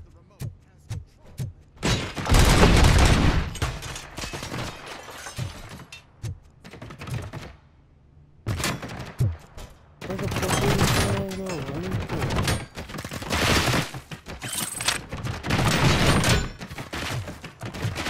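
Gunfire from the video game Robocop: Rogue City crackles in dense bursts and rattling volleys, with a few pauses between clusters of shots and thuds.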